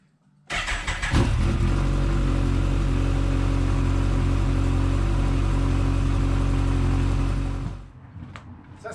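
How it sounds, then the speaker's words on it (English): A Kawasaki ZZR 1400 motorcycle engine starts abruptly and runs at a loud, steady idle close by for about seven seconds, then shuts off and dies away. "So I'm going to quickly run the bike"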